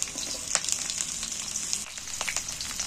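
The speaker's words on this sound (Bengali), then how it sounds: "এইবার আমি তেল গরম হয়ে গেছে, কাঁকরোলগুলো তেলের মধ্যে তুলে দিচ্ছি, আলুও তুলে দিচ্ছি।" Teasel gourd and potatoes drop into hot oil and fry with a continuous crackling sizzle, broken by a few sharper pops and spatula scrapes, close and steady.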